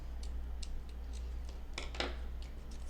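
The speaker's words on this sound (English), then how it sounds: "we're going to just maybe cut the lace into a triangle" Scissors snip lace into a triangle for a collage journal page, a handful of short crisp cuts close by, faint and spaced out over a low steady hum.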